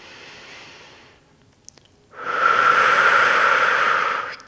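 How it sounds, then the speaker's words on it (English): A slow, deep breath cycle during a conditioning workout: a quiet drawn-in inhale, a brief pause, then a long, loud, airy exhale close to the mic. "Let's take one more inhale and exhale like that."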